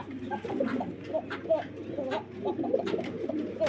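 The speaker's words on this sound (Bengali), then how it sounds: "এই যে ডাকটা শুরু হয়ে গেছে" A fancy pigeon at a pigeon farm coos in soft repeated low rolling calls close by, with faint voices in the background.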